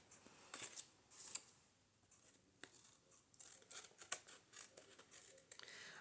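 Scissors snipping through a paper plate while trimming junk journal pages, several short crisp cuts and rustles in close, quiet bursts, with no voices.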